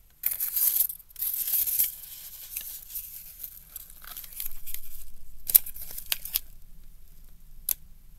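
Paper being torn and crumpled close up, with a sharp rip at the start followed by ongoing crinkling and scattered crisp tears, no voices.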